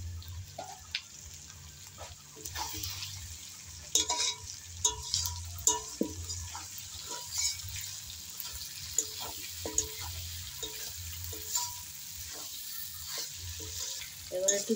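Fried potatoes added to a pan of spices and stirred, a steady sizzle under repeated scraping and clattering strokes of a spatula, close and irregular, with no speech.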